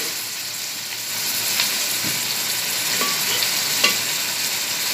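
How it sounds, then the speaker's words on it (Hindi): Chicken with turmeric sizzles and fries in a pan, a dense, even hiss held close and loud throughout, with a few faint clinks of stirring and no talk. "हल्दी शामिल करूँगी और इसमें फ्राई कर लूँगी मैं इसको।"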